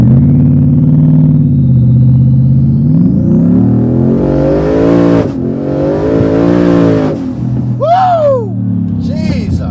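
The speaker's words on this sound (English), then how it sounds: "I'm going to open the cutouts and give this thing a quick hit." A twin-turbo Shelby F150 pickup with its exhaust cutouts open revs hard and accelerates, a loud, rising engine roar close by that climbs over several seconds, then a brief tire chirp and excited voices.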